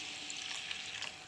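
Water is poured into okra gravy cooking in a pan, giving a steady hissing, bubbling wash that runs continuously and close by, with no talking.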